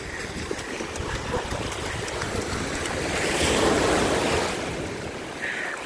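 Pacific Ocean waves roll onto a beach on Oahu while wind buffets the microphone, a continuous rushing wash that builds in the middle and then eases.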